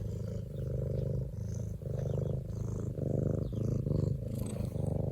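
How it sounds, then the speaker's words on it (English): Domestic cat purring steadily up close, a continuous low rumble pulsing in a regular rhythm of breaths, loud and alone without talk. "You want to purr for everybody?"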